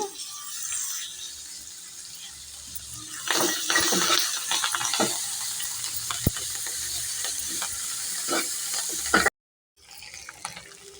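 Chopped coriander tipped into a sizzling pan of rice: a steady hiss of frying with scattered crackles and stirring scrapes, close up, then a brief cut to silence.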